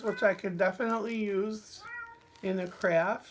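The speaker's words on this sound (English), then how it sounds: "That's my cat. He thinks he wants outside." A pet cat meows repeatedly nearby, wanting to be let outside, its drawn-out cries alternating with someone talking over and between them.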